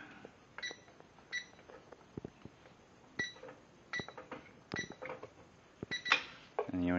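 A digital floor safe's keypad is pressed in a string of short beeps, with quiet clicks between them, ending in a brief electronic tone; a voice talks faintly in the background.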